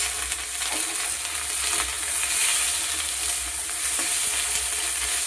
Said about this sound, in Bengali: এর মধ্যে দিয়ে দিচ্ছি টমেটো কুচি আর কাঁচা লঙ্কাটা। এটা ভালো করে কষিয়ে নেব।